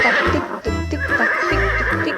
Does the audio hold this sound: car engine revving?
no